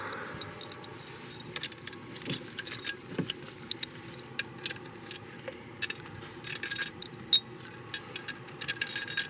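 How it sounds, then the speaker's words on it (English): A handful of long metal bolts jangle and clink while being picked up during a variable valve lift replacement on a 2015 Range Rover Evoque. The light metallic rattling sounds close and comes in repeated small bursts. "Now we're gonna get our longest bolts."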